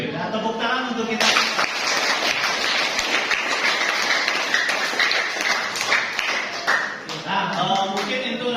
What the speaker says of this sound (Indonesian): Nah, tepuk tangan untuk kita.